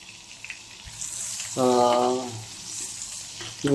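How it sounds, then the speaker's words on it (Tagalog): Butter melts and sizzles in a pan as a soft, steady frying hiss, joined midway by a short tonal voiced sound. "Hanggang sa matunaw lang yung butter"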